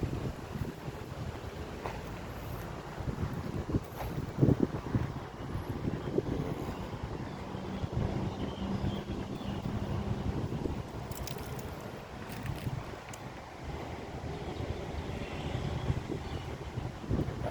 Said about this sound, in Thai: ลมแรงเข้ามาข้างนอกครับ